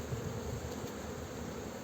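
Honey bees, including drones, buzzing at an opened hive frame filled with honey in Muğla, a continuous close droning hum with no pauses.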